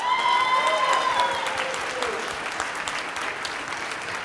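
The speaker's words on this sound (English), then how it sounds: "please give a round of applause for all of us." Steady crowd applause fills the room at a university international festival, many hands clapping together at a consistent level while a faint tone fades out early on.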